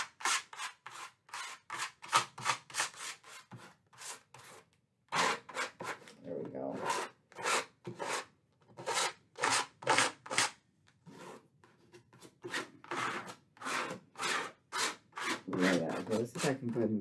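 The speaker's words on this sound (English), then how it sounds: "let's put it on here and scrape. Scrape paint" Rhythmic strokes of a tool scraping acrylic paint across a used canvas, repeated close rasping bursts in quick succession with brief pauses, with a voice talking between them.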